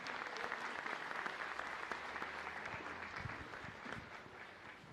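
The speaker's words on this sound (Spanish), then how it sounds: "Fuerte aplauso para ustedes" Parishioners gathered at a church in Asunción, Paraguay, for the centenary of the Oblate presence give steady, fairly distant applause, a dense patter of clapping that continues evenly throughout.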